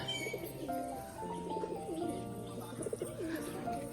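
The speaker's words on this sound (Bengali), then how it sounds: "তো বন্ধুরা এখনও কিন্তু আমার বাড়িতে অনেকগুলো পায়রা আছে" Domestic pigeons kept at home coo softly and repeatedly in overlapping, rolling calls at close range, with a faint background murmur and no speech.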